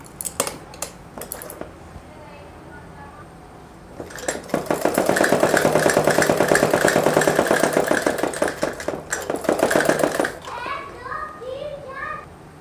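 A sewing machine runs a steady, fast stitching burst for about six seconds while joining the shoulder seam of a suit with a ready-made neckline, with short mechanical taps before and after.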